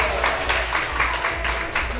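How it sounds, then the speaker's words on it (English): A group of people at a sweet sixteen party clapping their hands together in a fast, rhythmic pattern, close and steady, with faint voices underneath. "Clap your hands."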